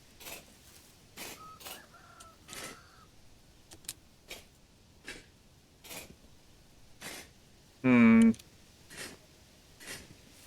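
Chickens cluck in a video game: scattered short clucks and clicks recur at an uneven pace, faint and somewhat distant, with one louder, longer squawk-like call standing out near the end.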